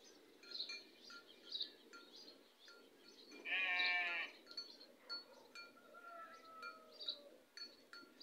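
A flock of sheep bleats faintly at a distance, with one clearer bleat in the middle and scattered softer calls and light chirps around it in a quiet outdoor setting.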